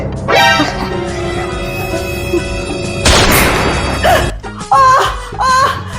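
A sharp toy gun shot bursts out amid a noisy scene, followed by a child's whimpering cry and raised voices.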